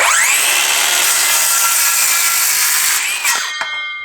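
A power saw cuts through 6-inch pieces of wood, one continuous loud, close whine that holds steady for about three seconds and then winds down as the cut finishes.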